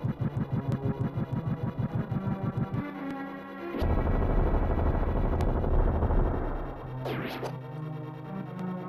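The Bombos medallion spell in Zelda: A Link to the Past, a rhythmic pulsing retro effect that gives way to a dense, sustained rumbling blast, with a brief swooping tone near the end.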